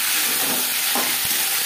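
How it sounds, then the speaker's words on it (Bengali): Onions frying lightly in a pan, a continuous close sizzle with a brief stir or scrape partway through. "পেঁয়াজ ভেজে নেব, হালকা করে ভেজে নেব।"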